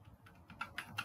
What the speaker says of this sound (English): I'm going to type in my router's IP address